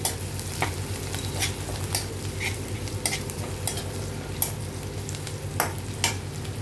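Chopped ginger and green chilli fry in a pan for chilli chicken, a steady crackling sizzle broken by repeated sharp scrapes and knocks of stirring, close and fairly loud with no talking.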